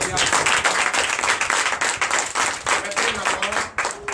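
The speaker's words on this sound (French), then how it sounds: "Donnez encore de vive acclamation." A church congregation at a Sunday worship service in Comè, Benin claps and applauds in a loud, dense, continuous wash of hand claps lasting throughout, with no clear pauses.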